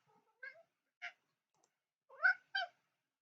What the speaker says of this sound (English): And now my cat is here. Do pardon his meowing.